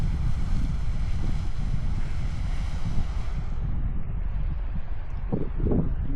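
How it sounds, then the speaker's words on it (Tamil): Cliff Geyser spouting water in an American geothermal landscape, a constant loud rushing roar heavily buffeted by wind noise, with no voices. "வா, அங்கே பாருங்கள் எப்படி அடிக்குது தண்ணி."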